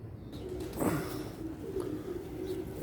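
A female pigeon kept with large pigeons coos in soft, low rumbling phrases, one near call around the middle and another toward the end, with faint background noise and no talk.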